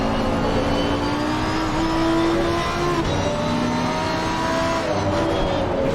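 A race car engine in Assetto Corsa Competizione, lapping the Valencia circuit, drones steadily and loudly with shifting, rising and falling pitch lines, holding near and continuous throughout with no speech over it.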